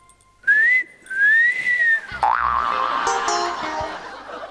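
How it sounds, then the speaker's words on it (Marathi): A whistle blown on stage at a Marathi comedy show gives two shrill, gliding blasts, the second longer and wavering, followed by a busy wash of background noise. "शिट्टी"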